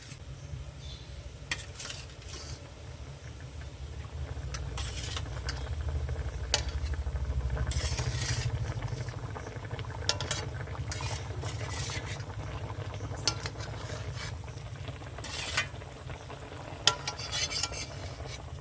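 Hilsa fish pieces dropped into a boiling turmeric curry, a low steady bubbling under scattered clinks and splashy pieces landing, fairly quiet and close, with no talk.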